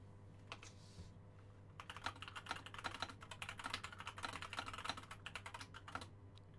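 Rapid computer keyboard typing, a dense patter of light clicky keystrokes that starts after a quiet pause and continues steadily over a faint background hum, with no talking.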